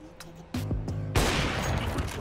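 AWP sniper rifle fire in Counter-Strike, with a few sharp cracks early on and then a loud shot whose noisy report lingers to the end, heard at a moderate distance.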